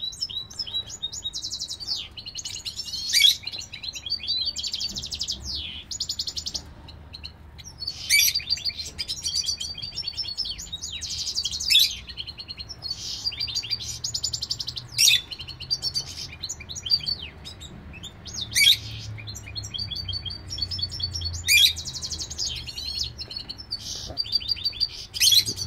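A canary incubating eggs chirps in repeated bright bursts of rapid tweets and trills, separated by short pauses over a faint low background hum, fairly close and clear without talk.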